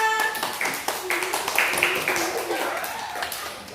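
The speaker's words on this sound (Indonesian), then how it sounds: "Terima kasih tepuk tangan untuk temannya" A class of students claps for a group of classmates after their marks are announced, a burst of quick, uneven hand claps in a classroom, with voices talking over the clapping.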